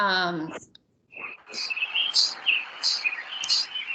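Birds chirp in short, repeated high tweets at moderate distance, following a brief voice at the start and continuing over a soft background murmur.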